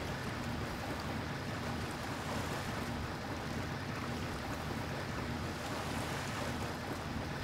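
A boat cruising over waves in Far Cry, a constant loud rush of water and wind with engine rumble beneath, steady and unbroken throughout, with no voices.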